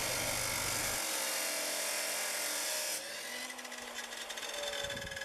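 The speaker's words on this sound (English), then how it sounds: "I got out the pipe cutter chop saw and I cut those to length" Pipe cutter chop saw cutting steel pipe hangers to length: a loud, continuous high-pitched whining grind that shifts in tone partway through as the blade works the metal, with no talking.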